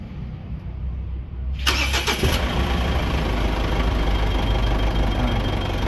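Mitsubishi Montero 4D56 diesel engine cranks and starts, then settles into a loud, steady idle up close, with no talking.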